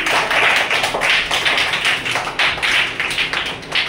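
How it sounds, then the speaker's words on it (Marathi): Children in a classroom clap together for a classmate, a dense, steady burst of many hands sustained throughout without a break, close and loud. "आयुषसाठी सगळ्यांनी टाळ्या वाजवायच्या आहेत"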